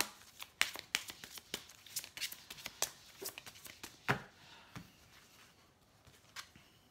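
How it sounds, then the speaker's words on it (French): Tarot cards riffled and shuffled by hand, a quick run of soft papery snaps and flicks followed by sparser taps as cards are drawn, quiet and close. "je vais tirer une petite carte"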